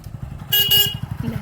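A short, loud honk from a vehicle horn sounds over the steady putter of a nearby motorcycle engine.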